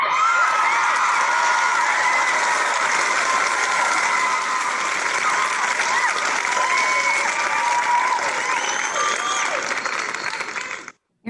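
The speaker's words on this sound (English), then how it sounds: "Let's give her a round of applause." Audience applause at a community awards ceremony honouring citizens of achievement, loud, dense sustained clapping with a few cheers, ending abruptly near the close.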